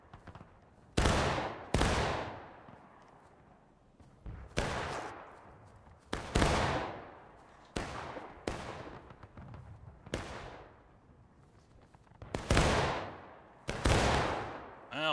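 Musket volleys crash out in the video game War of Rights during a Union assault at Bloody Lane: roughly ten loud, ragged bursts of massed gunfire, each with a sharp onset and a rolling decay, spaced about a second or two apart, with no talking.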